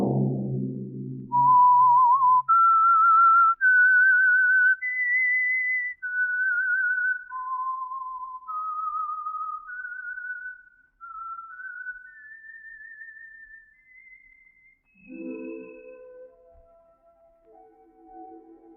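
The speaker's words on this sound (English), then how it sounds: "Let that whistle be your signal for the Signal Oil program, The Whistler" A lone melodic whistle, the signature tune of the radio program The Whistler, rises and falls in a clear sequence of sustained notes, with a short burst of orchestral music before and after.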